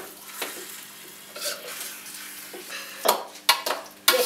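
Food being stirred together with tomatoes in a bowl for pasta: intermittent scraping and clinking that starts soft and grows into sharper, louder knocks toward the end, with no talking.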